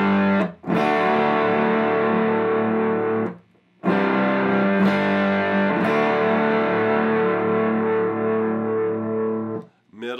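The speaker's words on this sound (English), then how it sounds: "And this is with the little bear tube distortion." Distorted electric guitar with humbucking pickups through a Little Bear tube distortion pedal, neck pickup, playing sustained, gritty chords, loud and close, with two brief pauses between strummed phrases.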